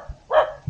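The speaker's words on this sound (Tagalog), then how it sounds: "May aso pa tayong kasama." A dog at a mountain camp gives one short bark, brief and moderately close, against otherwise quiet surroundings.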